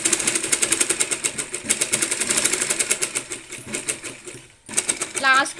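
A home sewing machine stitches a saree fall with a fast, even needle clatter up close, pausing briefly near the end as a voice speaks over the final moment.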